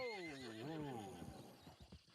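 A horse in Red Dead Redemption 2 on PS4 gives a loud, close, wavering whinny, followed by a few soft hoof clops.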